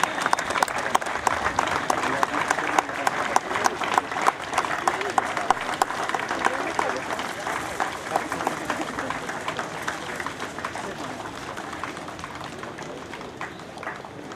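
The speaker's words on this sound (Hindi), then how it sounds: "कम से कम तालियां तब तक तो बजनी चाहिए जब तक महिलाएं मंच पर विराजमान हैं" A crowd at an Independence Day celebration at the Banaras Rail Engine Factory in Varanasi claps continuously as women take the stage, a steady wash of applause that thins slightly toward the end, with faint voices mixed in.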